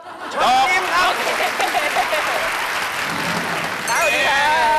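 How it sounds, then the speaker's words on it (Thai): A crowd claps steadily in warm applause, with whoops and cheers over the top and brief voices rising near the end. "เสียงปรบมือต้อนรับ"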